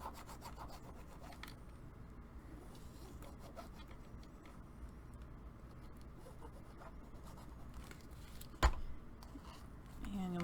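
Paper lips folded down over chipboard on a handmade popcorn dispenser box, heard as soft close rubbing and creasing with a sharp tap near the end, under faint low background sound.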